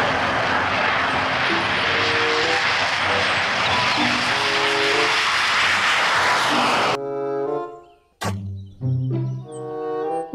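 A loud, steady jet engine roar from a toy fighter jet lasting several seconds, with faint melodic tones beneath, then cutting off into a voice speaking.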